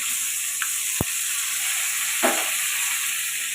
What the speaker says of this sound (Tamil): பூண்டு நல்லா பொறிஞ்சதும் கருவேப்பிலை சேர்த்துக்கோங்க